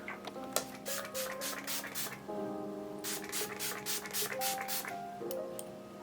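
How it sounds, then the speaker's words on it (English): Setting spray misted onto the face during bridal makeup: a series of short, hissing spray bursts in two clusters, close and crisp, over soft background music. "let the skin absorb this setting spray"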